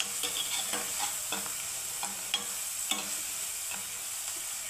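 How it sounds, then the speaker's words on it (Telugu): Onions fry in a pan with turmeric and salt, a steady broad sizzle with scattered scraping clicks of a spoon stirring throughout, close and continuous with no talking. "ఉల్లిపాయకి సాల్ట్ ముందుగా వేస్తే త్వరగా వేగిపోయింది అన్నమాట"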